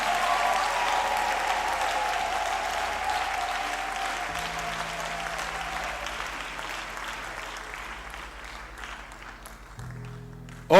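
A church congregation applauds during a Christian prayer service, sustained broad clapping filling the room, gradually easing off toward the end, with a sustained tone and faint voices underneath.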